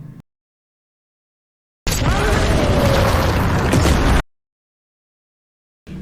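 A landmine detonates in a war movie, one loud, dense blast of about two seconds that cuts in abruptly from silence and ends just as suddenly, with a broad rumbling roar.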